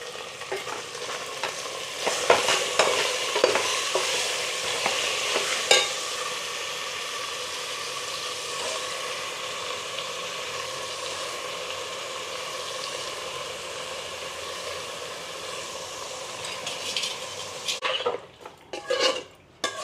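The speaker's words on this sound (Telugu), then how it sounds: "పసుపు వేసి అగో మంచిగా పసుపు వేగినాక బోట వేస్తా ఇక బోట వేస్తున్నా" Tripe (boti) fries with turmeric in oil in a pot. A steady loud sizzle runs throughout, broken by repeated scraping and clinking of a spoon stirring against metal, with clatter near the end.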